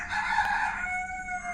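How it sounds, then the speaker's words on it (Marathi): A rooster crows once in a Konkan village, giving a single drawn-out call that sounds clear but somewhat distant, with no talk over it. "कोंबडीचा आवाज बघ कसं कुकू कुकू कू"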